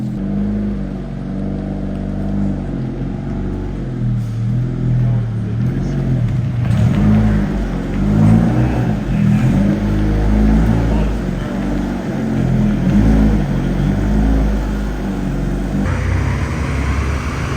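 A car engine revs and roars steadily nearby, rising in intensity midway, with people talking faintly beneath the motor noise.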